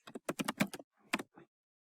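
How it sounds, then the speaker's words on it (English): Quick bursts of key presses on a computer keyboard as a command is typed, with a rapid cluster of close clicks, a short pause, then a few more taps. "Open CMD and type mongosh."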